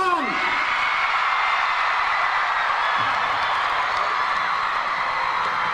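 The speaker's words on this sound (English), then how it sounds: "I want to hear the biggest cheer ever for Shah Rukh Khan" A large audience cheers, whoops and applauds for Shah Rukh Khan, a loud, dense roar that carries on steadily and unbroken.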